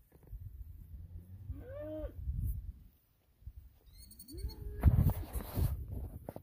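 Cattle on a farm let out two long, nearby moos separated by a short pause, with rustling and shuffling in the background.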